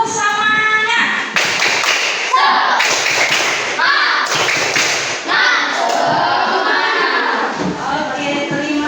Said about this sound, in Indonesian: mari kita lakukan tepuk semangat yuk